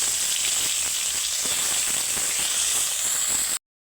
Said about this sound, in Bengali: এবার ভোলা মাছগুলো দিয়ে দিচ্ছি।